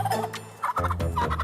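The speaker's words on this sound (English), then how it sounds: "I'm getting attacked by a chicken right now." A turkey-like fowl attacking a police officer gobbles loudly and repeatedly at close range, rapid rattling calls filling the short moment with no talk.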